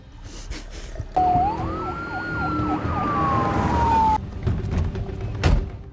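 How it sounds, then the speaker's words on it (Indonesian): A police siren wails loudly for a few seconds, rising and falling with quick yelping bursts, with traffic noise before and after. "sirine polisi meraung-raung di luar hotel"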